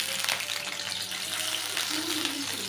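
Onion frying in oil in a pan for okra paturi, a steady soft sizzle with a faint tonal hum running underneath throughout.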